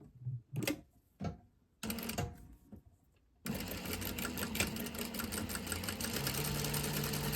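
Sewing machine stitching a fabric seam, with a few short stop-start bursts of needle chatter first, then a long steady fast run of stitching that hums and rattles up close.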